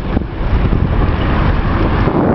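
Steady roadway rumble from a traffic jam of cars and buses, a dense continuous wash of engine and tyre noise with wind buffeting the microphone, no distinct horns or voices standing out.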